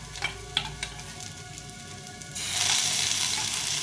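Ginger paste sizzles and fries in a pan for a rice-flake khichuri, a steady crackling hiss with a few stirring scrapes early on, then swelling louder and denser as more heat takes hold.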